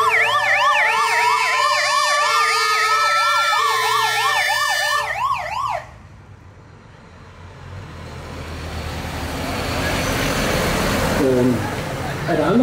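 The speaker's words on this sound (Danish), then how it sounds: "her kom en af vores brandbiler, og foran den kom der en politimotorcykel, en militær politimotorcykel" Loud wailing fire engine siren with rapid, sweeping up-and-down tones, close by for several seconds, then cutting off to leave the rumble of passing traffic. A military police motorcycle escort rides in front, and a voice talks over part of it.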